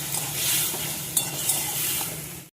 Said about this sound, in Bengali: মশলাটার জন্য একটু সামান্য জল দেবো, টমেটোটা যাতে গলে।